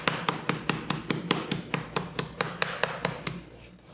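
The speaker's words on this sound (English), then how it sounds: "Beat the chicken gently with periodic strikes so that the chicken flattens evenly" A rolling pin strikes a raw chicken breast in a kitchen, about fifteen sharp, evenly spaced thuds in a steady rhythm, close and clear, then stops.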